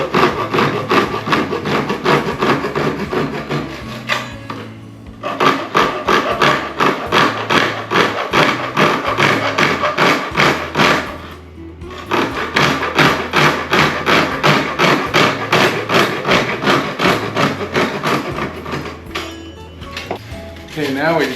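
A hand saw cuts a slot into the end of a PVC pipe rod holder with rhythmic back-and-forth strokes, close and loud. The strokes pause briefly twice before resuming.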